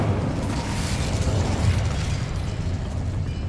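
Incendio, the fire spell in the Hogwarts Legacy video game, goes off as a whooshing, rumbling burst of flame that roars loudly for a few seconds and then slowly fades.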